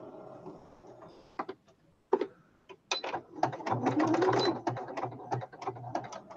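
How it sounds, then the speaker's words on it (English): A sewing machine stitches along the edge of fabric for a patchwork pillow, starting with a few short bursts and then running in rapid mechanical clatter, close and fairly loud. "I'm just going to go on the edge and I'm going to sew"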